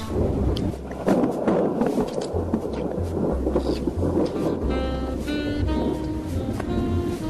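Loud, dense rain pouring down with low rumbling underneath, like a storm, and a tonal hum drifting in partway through.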